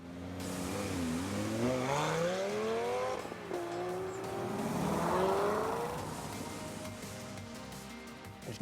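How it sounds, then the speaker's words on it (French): About 25 race car engines roar and rev together, pitch climbing and dropping as they accelerate, loud and continuous throughout with no talking. "Le son de 25 véhicules ronronne dans nos tympans."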